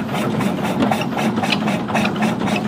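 A century-old car engine idles steadily, loud and close, with a constant rumbling drone and a faint rhythmic pulse, no talking over it.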